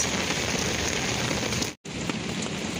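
Steady, dense rain patters on a surface, a constant hiss with a brief dropout near the end.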